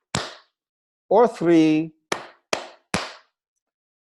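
Single sharp hand claps, close and dry, spaced apart in a sparse rhythm, with someone speaking briefly between them.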